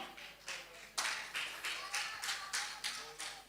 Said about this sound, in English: A bigger clap and applause of praise